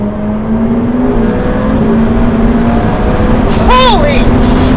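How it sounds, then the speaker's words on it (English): A Ferrari F8 Spider's engine drones steadily under throttle, with a voice breaking in near the end. "I lean on the throttle and there's no freaking turbo lag"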